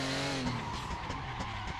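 Cars drifting in the Assetto Corsa racing game, with engines droning at high revs and tires squealing as they slide, heard up close and without talk.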